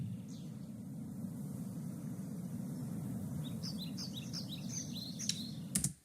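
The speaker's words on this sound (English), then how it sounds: "you hear a bunch of birds, you hear water" Several birds chirp and tweet over a steady outdoor wash of wind and water, the calls short and light, with a cluster of them in the later seconds and a brief clunk near the end.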